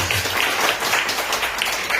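Church congregation clapping during a sermon, a dense steady wash of applause filling the whole moment.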